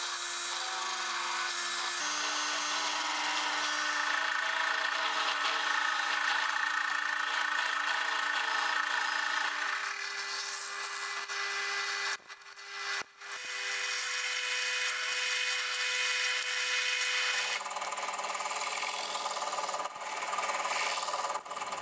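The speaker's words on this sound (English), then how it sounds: "I'm going to use a countersink bit to first create a chamfer" A DeWalt countersink bit spins in a drill, cutting a chamfer into a hole for a Pantorouter XL build, a continuous high whine that steps in pitch with a brief interruption midway.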